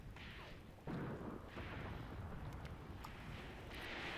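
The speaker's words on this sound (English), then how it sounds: "we are actually starting to fire at them as well with our tanks" Tank guns firing in the tactical war game Graviteam Tactics, heard as a muffled low boom followed by a dull rumbling battle backdrop with faint distant cracks, fairly quiet throughout.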